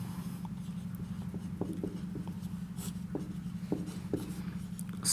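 Chalk writing on a classroom board during a chemistry lesson, a run of soft, close scratching strokes with small taps, faint and steady.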